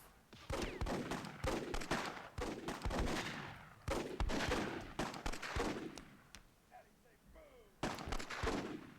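Rapid bursts of gunfire in the WWII scenario of the strategy game Myth II: Soulblighter, loud and repeated across the span with short gaps, mixed with crackling battle noise.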